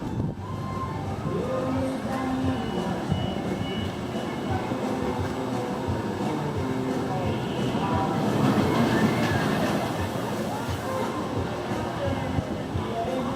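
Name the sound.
Iron Rattler roller coaster ride at Six Flags Fiesta Texas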